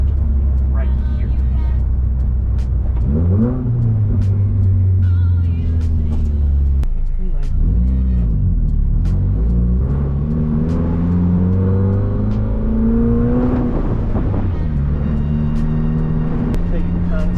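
A car's exhaust, dumped short right under the cabin, rumbles loud and steady while driving. Its drone swells and dips as the engine pulls through the revs, and a voice talks over it.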